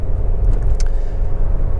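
A Toyota Avensis 1.8 T4 with CVT automatic gearbox on a road test, heard as a steady, loud low cabin rumble of engine and road noise, with one brief brighter tick partway through and no voices.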